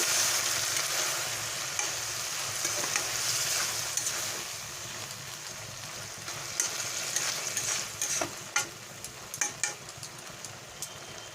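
Okra (bhindi) frying in a pan with a steady sizzle throughout, stirred with scraping clinks that grow sharper and more frequent toward the end, close and alone with no talking.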